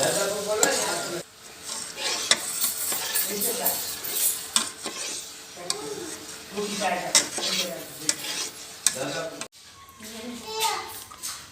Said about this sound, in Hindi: ये देखिए ये शीरा पक रहा है हमारा। हम इसको इस वक्त तक पकाएंगे जब तक ये गाढ़ा नहीं हो जाता।